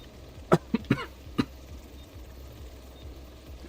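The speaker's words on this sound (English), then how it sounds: "Man, I really hate this cough." A person coughs in a quick cluster of four sharp, close coughs, the first loudest, over a quiet low background hum.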